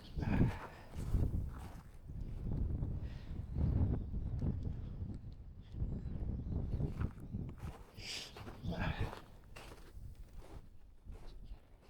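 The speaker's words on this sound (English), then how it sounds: "Man, that wind is tough." Gusty wind blows outdoors on a cold coast after a rare snowstorm, roaring broadband bursts buffeting the microphone throughout, with faint shuffling movement underneath.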